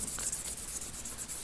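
Steady rubbing strokes of hand polishing on a metal magazine, a continuous close scrubbing texture with faint rhythmic pulses and no talking.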